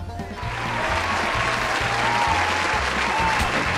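A crowd in a GTA Online cage fight roars and claps in a dense, continuous wash of cheering, steady and loud, with a rhythmic low thumping pulse beneath it.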